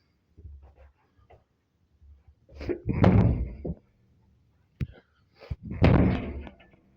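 A door opening and closing in an unfamiliar place, with a couple of close thunks and creaks in short bursts separated by quiet.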